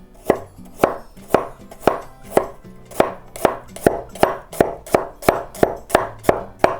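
A knife slices ginger on a cutting board in about a dozen sharp, evenly spaced chops, close and loud, with no talking.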